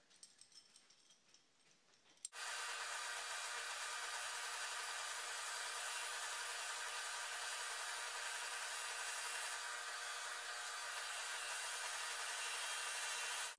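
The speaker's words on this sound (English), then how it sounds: "took kind of a long time on the grinder, but eventually get this out here." Some quiet tapping and handling, then a grinder starts up abruptly and runs at steady high volume for the rest of the clip while grinding down a homemade impeller puller tool for a Yanmar engine on a sailboat.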